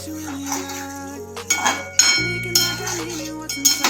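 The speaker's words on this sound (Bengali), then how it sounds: "এবার আমি ঢাকাটা খুলে দেখব।" A metal lid comes off a pot of simmering lote fish curry with a bright clink and clatter, followed by ringing knocks of cookware close by, while a voice speaks.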